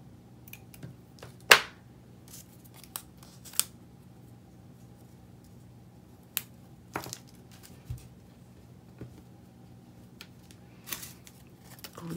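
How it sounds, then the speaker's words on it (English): Scissors trimming the small ends of a ribbon bow in a papercraft project, a few sharp isolated snips spread across a quiet room with faint handling noise between them and no talking. "Trim these little ends."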